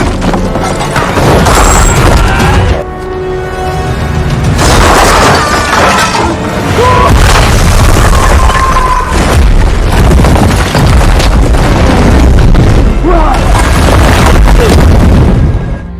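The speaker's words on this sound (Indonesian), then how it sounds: "Sungguh tanpa diduga, senjata berat RPG yang telah diledakkan di tempat tersebut, Sergei telah tertimbun." Heavy booming blasts from an RPG explosion in an action film roll out loud and dense, with crashing debris and rumbling bursts that keep surging for a long stretch, dipping briefly only once or twice.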